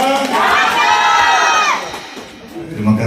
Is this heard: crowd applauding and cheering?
yes